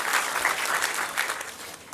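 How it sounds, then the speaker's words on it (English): Graduates and guests applauding at a 2022 convocation ceremony, a sustained wash of many hands clapping together at an even, fairly loud level. "give a round of applause as a gratitude to your teachers"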